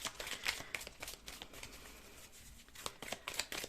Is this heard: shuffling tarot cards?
yes